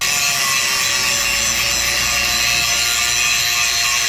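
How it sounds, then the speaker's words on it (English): A power grinder and sander works a welded steel custom heavy-duty bumper, giving a continuous loud, hissing abrasive whine with no pauses and no talking. "I'm gonna grind it up so it looks like it came from the factory like this. Oh, rather grind and sand it."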